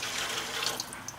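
Lye water made from wood ashes pours back into a pot, a brief, close, steady splashing trickle of liquid with no voices over it.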